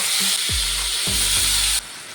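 Paneer pieces fry in hot oil in a pan, a strong continuous sizzle with a few low knocks as pieces are dropped or moved, cutting to a quieter hiss near the end.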